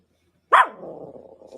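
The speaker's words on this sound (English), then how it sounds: "her dogs were barking" A single sharp dog bark played back from a video, loud and sudden after silence, followed by a low fading growl-like tail.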